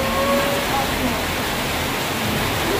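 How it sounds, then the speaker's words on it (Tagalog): Heavy rain pours steadily in a broadband wash, with occasional faint voices in the background. "Lumakas yung ulan, oh."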